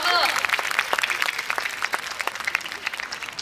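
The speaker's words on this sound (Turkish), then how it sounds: "bir moral alkışı alalım" Audience applause at a live improv comedy show in a theatre, an initial burst of clapping that thins into lighter scattered claps, with a few voices and cheers mixed in.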